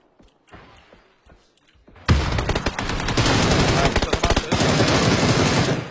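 Gunfire in a shooter video game: after a quiet opening with faint clicks, dense rapid bursts of automatic fire break out loud and close, continuing as a sustained fusillade to the end.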